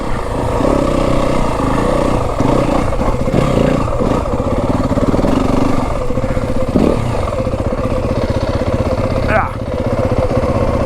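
A Yamaha WR250F dirt bike on tight single-track trail near Flagstaff sounds up close and loud, its engine buzzing and revving over throttle changes with clattering chassis and wind noise. No talk is heard.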